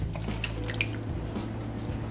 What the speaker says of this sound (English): I just add a little water to what was left in the cup so that we can get it out